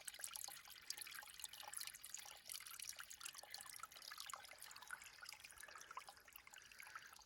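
A tiny spring bubbles and trickles beside a hiking trail in Vermont, a continuous soft gurgle and drip heard close and alone.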